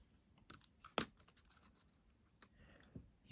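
A spacebar keycap is pried off a MacBook Pro A1706/A1707 keyboard, giving faint, close plastic clicks and scraping ticks, with one sharper snap near the middle, all very quiet.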